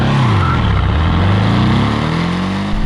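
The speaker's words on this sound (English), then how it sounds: "And this is a 4-cylinder engine we're talking about, but what a great sounding 4-cylinder engine." 2021 Porsche 718 Boxster T turbocharged 4-cylinder engine revving: a loud, raspy, close engine note that drops and then climbs steadily in pitch, heard alone with no talk.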